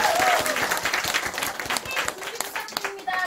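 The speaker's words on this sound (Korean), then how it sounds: "박수 한번." A crowd at a USANA Korea Gold promotion ceremony applauds steadily, dense clapping filling the room with a few shouts and voices mixed in.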